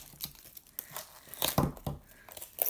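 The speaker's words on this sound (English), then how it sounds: "then I can take off my masking tape" Masking tape peels off an acrylic pour painting in short, crinkly tearing bursts, quiet and close, with uneven rips and pauses and no talking.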